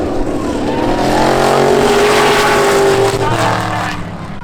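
Race cars at Seekonk Speedway thunder down the backstretch in a loud, sustained roar, several engines overlapping with rising and falling pitch as they pass close by.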